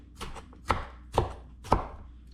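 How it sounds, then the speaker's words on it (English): A knife chops food into julienne strips on a cutting board for a chicken skillet, giving four sharp, evenly spaced cuts close up, each a crisp thud with a bright edge, over a faint low hum and no voices. "cut them into strips"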